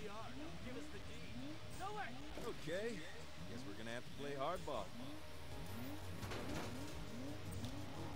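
A car in the Saints Row video game drives along, its engine revving up and down in repeated rising and falling sweeps, with possible tire skids. People talk over it throughout.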